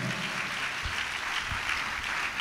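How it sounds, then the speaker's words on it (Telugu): A church congregation claps steadily during a sermon, a thick, continuous wash of many hands with a few low thumps, moderately loud and close. "అందరూ సంతోషంగా చప్పట్లు కొట్టాలి"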